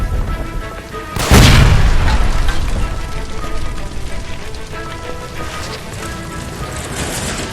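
A gas line explodes beside a stove in the crime game L.A. Noire, a loud close boom followed by a long roaring rush and crackle that slowly fades under steady noisy ambience.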